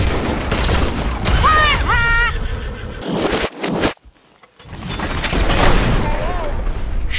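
Explosive-round gunfire during a Red Dead Online duel, loud booming shots mixed with a horse's whinnies, a brief near-silent gap, then more rumbling game sound.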